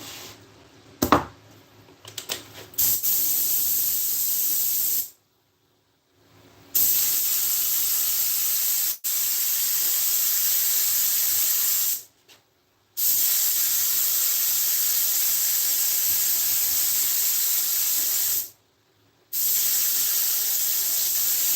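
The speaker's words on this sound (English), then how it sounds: "before it can do that, it's got to be sprayed" Adhesive spray hisses onto an upholstery seat piece in long, loud, steady bursts, broken by a few short pauses, with some brief handling clatter at the start.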